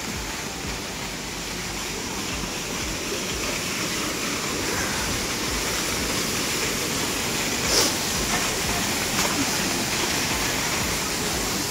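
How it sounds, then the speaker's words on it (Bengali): Fast-flowing mountain waterfall in Sikkim near a small bridge, a steady, loud, full roar of rushing water that continues unbroken throughout. "বাহ, স্পিডটাও হেভি ঝর্ণার,"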